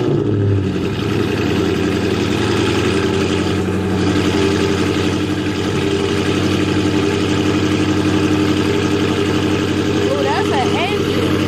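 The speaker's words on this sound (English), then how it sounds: "let's get this cold start going" A car engine turns over on a cold start and settles into a steady, loud idle that runs continuously from start to end, with a voice talking over it.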